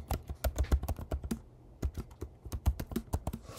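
Rapid keystrokes on a computer keyboard as a password is typed into a database login, a steady clatter of close, crisp taps with a short pause in the middle.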